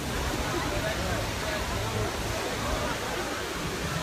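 Steady broadband rush of waterfalls at Pandora – The World of Avatar theme park land, a continuous even roar of falling water that stays constant throughout, with a faint murmur of people in the background.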